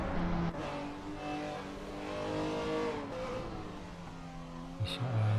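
A BMW race car circuit racing on track, its engine note rising and falling through gear changes, moderately distant, with a brief tire chirp near the end and commentary-style talk faintly underneath.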